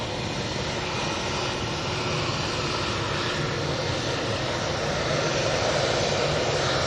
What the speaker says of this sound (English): a couple of noises coming from that EasyJet there